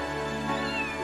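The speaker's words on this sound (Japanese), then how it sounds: "お前白猫かよ" A white cat in an anime OVA gives a drawn-out, plaintive meow over a sustained tonal background, fairly close and clear.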